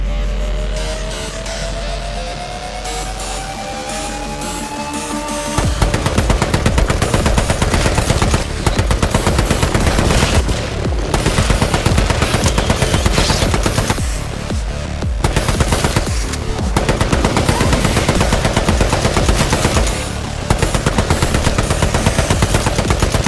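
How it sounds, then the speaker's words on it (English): Rapid rifle gunfire in a video game fight against monsters, loud sustained bursts of shots after a quieter opening with rising tones, continuing almost nonstop with brief pauses. "we actually have a solution to all those scary ass nightmare fuel type monsters if they come at you. And that's right, it's a rifle"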